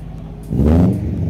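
Modified car passing by on a street, a brief loud low engine roar swelling and fading within about a second.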